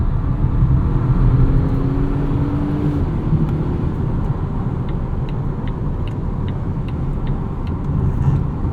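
2020 Volvo V60 T8 E-AWD Polestar hybrid powertrain accelerating, a steady, heavy rumble of engine and road noise from inside the car, with a brief rising tone early on and no talking.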